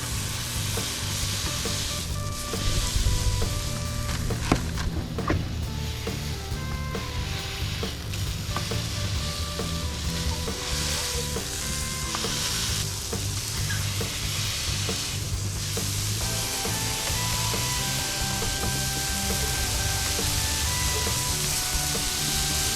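Burgers and pre-cooked bacon sizzle on a Blackstone camping griddle alongside buttered buns toasting. A loud, steady crackle and hiss continues throughout, with occasional scrapes and taps of a spatula.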